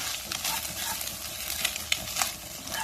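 Eggs stir-fry in a pan with garlic, a steady bright sizzle broken by quick scraping and stirring strokes, fairly close and even, with no one talking.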